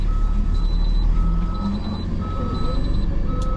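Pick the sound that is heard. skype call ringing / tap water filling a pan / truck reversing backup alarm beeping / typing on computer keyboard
truck reversing backup alarm beeping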